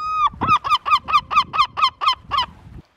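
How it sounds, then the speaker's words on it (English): A seagull in the coastal town of A Coruña, Galicia, Spain, gives a close, loud run of about nine rapid, evenly spaced squawking calls after a short opening note. "Got a grumpy looking seagull over here."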